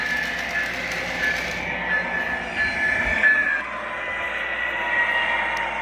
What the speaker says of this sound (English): the supercapacitors let the shutdown sounds operate because now the track power has been removed